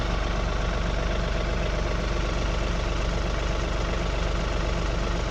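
The diesel engine of a John Deere 3046R cab tractor idles at a steady, even throb. The rumble is close and continuous with no change in speed, and no voices are heard over it.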